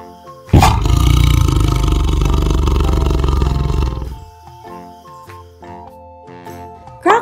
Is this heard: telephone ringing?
no